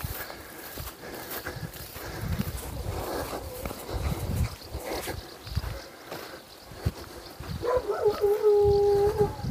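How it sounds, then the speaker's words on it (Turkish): A dog howls and barks a few times in the distance amid outdoor rustling and footsteps in a village in Güzelyurt, Cappadocia, with a higher whining cry near the end. "Köpek sesi de geliyor ama inşallah bağlıdır"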